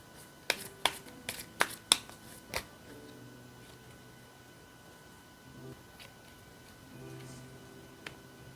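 Tarot cards give a series of sharp, quiet snaps and riffles in a quick cluster near the start, followed by softer scattered card sounds in a quiet room.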